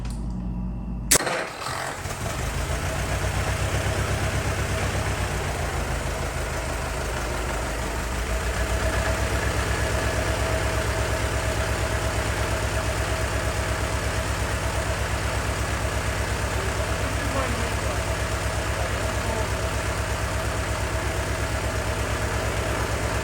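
A 1914 Ford Model T Speedster engine starts with a sharp burst, then settles into a steady, loud idle that runs on close by with a constant low rumble and no talk over it.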